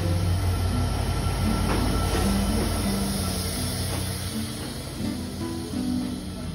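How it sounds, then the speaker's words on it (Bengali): The Sagardari Express pulls into a station platform with a loud, continuous rumble and clatter of wheels, faint squeals over a steady low drone, near and sustained throughout. "তখনই চলে আসলো আমাদের সাগরদাড়ি এক্সপ্রেস।"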